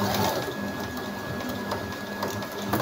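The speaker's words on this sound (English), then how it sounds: "I'll just take it to the sewing machine." Sewing machine stitching fabric for a headband and turban cap, a steady loud mechanical whir with rapid needle clatter running without pause, no voices.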